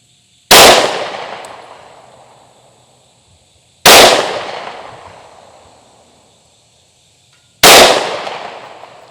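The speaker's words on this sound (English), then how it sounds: "we'll fire 3 into that top left target" Three single pistol shots from a Hellcat Pro Comp fired at a target at a range, each a loud, sharp close report with a long decaying echo, spaced about three and a half seconds apart, no talking.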